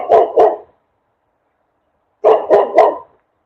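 A dog barks in two short bursts, two quick barks, a pause of nearly two seconds, then three more, loud and close with nothing else around them.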